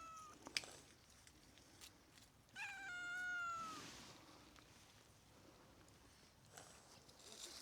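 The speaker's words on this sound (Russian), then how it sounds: "Он любит покричать у нас, да?" A cat in a garden lets out one loud, drawn-out meow in the middle of quiet outdoor background noise, with a few faint clicks around it.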